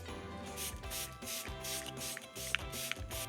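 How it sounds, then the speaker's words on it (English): Several short hissing sprays of makeup setting spray in a steady rhythm, close by, with a few faint clicks between bursts over a humming background. "Then I'm gonna finish this off with the Charlotte Tilbury Airbrush Setting Spray."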